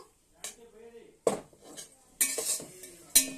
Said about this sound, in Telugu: వెజిటేబుల్స్ అయితే వేయించుకుంటున్నాను